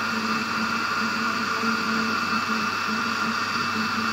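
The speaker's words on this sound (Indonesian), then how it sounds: "blender semua bahan secara bertahap." A kitchen blender grinds peeled spices and fennel seed for jamu, a steady motor whine running unbroken throughout with a constant grinding hum, no voices.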